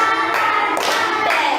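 A group claps along to a classroom song in a quick, even rhythm of dense overlapping hand claps, brief and fairly loud.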